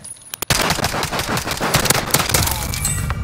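Video game gunfire in a Call of Duty-style tournament match: rapid automatic bursts of shots crackle loud and dense for about three seconds after a couple of single cracks, with no speech over them.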